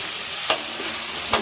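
Browned onions with tomatoes frying in a pan give off a steady, close sizzle, broken by two sharp clicks of a utensil against the cookware.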